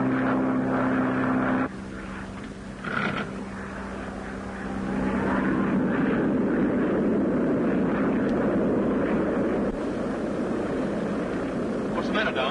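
A propeller aircraft's engine drones steadily in flight in a film scene, with ice building on the wings. The loud, continuous roar dips briefly, then swells back and holds for the rest of the clip.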